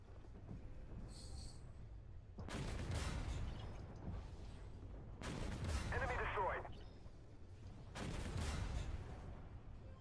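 Tank cannons fire in the video game Armored Warfare: three heavy booming shots about every three seconds, each with a long rumbling decay, over a low game background.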